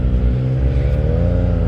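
A motorcycle revs and accelerates at night through the Saint-Michel quarter of Paris, a steady loud engine drone with rising pitch, close to the rider and alone without talk.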